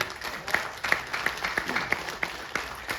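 Scattered applause from an audience at a business plan presentation, a modest crowd clapping in a fairly thin, uneven rhythm with sharper individual claps standing out, and a faint voice underneath.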